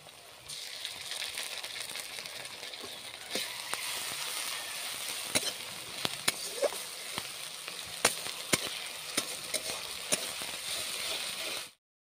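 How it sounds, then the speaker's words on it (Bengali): Crushed garlic, ginger paste and onion fry in oil for a rohu fish curry, making a constant moderate sizzle broken by sharp clicks and scrapes of a spoon against the pan, with no voices. "আদা, রসুন, পেঁয়াজগুলো দেওয়ার পর কি সুন্দর সব লাল লাল হয়ে ভাজা হয়ে গেছে।"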